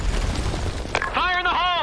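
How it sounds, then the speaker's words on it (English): A grenade bursts in the shooter game Blackshot with a sharp, brief blast midway, set among rumbling game noise. A voice calls out just after. "Fire in the hole. Grenade. Grenade. Fire in the hole."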